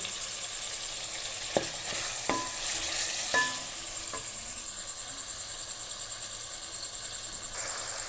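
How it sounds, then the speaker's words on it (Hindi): Gosht fries in a pan for a green pumpkin (kaddu) curry, a continuous soft sizzle with a few scrapes and knocks from stirring near the start. The frying sits close and moderately quiet, with no voices. "गोश्त कितना ज़बरदस्त फ्राई हुआ है।"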